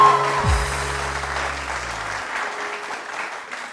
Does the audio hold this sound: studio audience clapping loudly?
yes